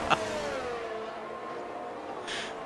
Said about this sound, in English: There's two McLarens fighting through turn 3, losing out on their two rivals up the road.